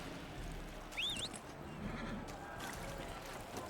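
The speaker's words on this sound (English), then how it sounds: "Horse." A horse in the Dragon Age video game gives a brief whinny, faint and somewhat distant, over a steady low ambient game background with light hoof movement.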